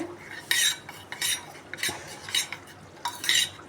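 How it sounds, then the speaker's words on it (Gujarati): A spoon stirs spice masala into vegetables for a Punjabi gravy, producing bursts of scraping and clinking against the pan in an uneven rhythm, close and with no talking. "સરખું મિક્સ કરી દઈશું"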